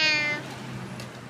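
A single short cat meow, clear and close, fading into quiet room noise.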